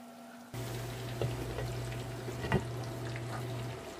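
Chicharon bulaklak, pork intestine, fries in hot oil with a steady hiss that starts abruptly and carries occasional louder pops and splatters, close by and without voices.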